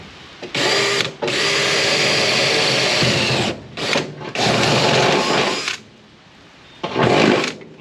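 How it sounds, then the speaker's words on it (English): A power drill whines loudly in long sustained bursts, pausing briefly between runs as it bores a large hole through the floor of a 1957 Chevrolet Bel Air convertible. "We're gonna drill a hole."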